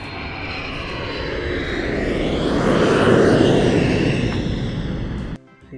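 A toy airplane sound effect with a steady aircraft engine drone that swells toward the middle and cuts off abruptly near the end, heard alone without talk.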